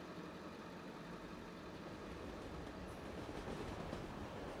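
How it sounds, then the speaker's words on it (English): A passenger train pulls out of a station, a steady broadband rumble of wheels and carriages that stays loud and even throughout, with no talking. "Now departing the station."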